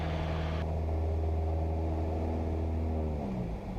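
Small training airplane engine holding a steady loud drone with strong low harmonics, its pitch shifting slightly as the throttle changes, continuous and close throughout.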